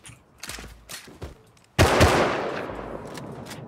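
Explosive ammo gunfire in the game Rust: a few scattered shots, then one loud, sharp blast that rings out and fades over about two seconds.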